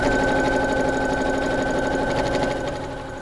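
A sewing machine stitching a small fabric bag, running in one steady, continuous buzzing whir close up, slowing slightly near the end, with no talking.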